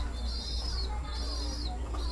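A Ruditan racing pigeon hen gives soft, repeated coos over a low background hum, the warbling calls rising and falling in a slow rhythm at close range.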